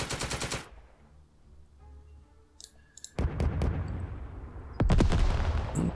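Gunfire in the Second Front wargame, with a rapid burst of shots at the start, a quieter pause, then heavier bursts of firing with booming low rumble near the middle and end.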